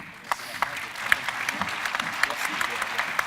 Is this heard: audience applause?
yes